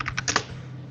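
Keys clatter on a computer keyboard, four quick close taps in a short burst, then the sound falls away to quiet room tone.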